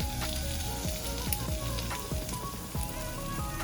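Onion sizzles in a hot frying pan for Jamaican brown stew fish: a steady, loud hiss with recurring scrapes and knocks, and no talking.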